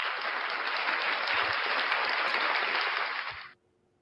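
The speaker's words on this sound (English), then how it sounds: "We got some people cheering for us in the background." A crowd applauds and cheers at a horse racing track, a steady wash of clapping held at a moderate level for a few seconds before cutting off abruptly into near silence.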